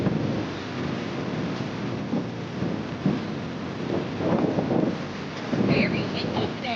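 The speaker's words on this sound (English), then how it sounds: "Very windy today." Strong wind buffets the microphone outdoors in Barcelona, a continuous heavy rumbling roar with gusts swelling and easing throughout.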